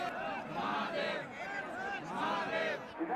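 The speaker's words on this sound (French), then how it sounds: "Enfin, la foule des pèlerins." A vast crowd of pilgrims at the Kumbh Mela in India, a dense swell of many voices chanting and calling together in rising and falling waves, loud and close.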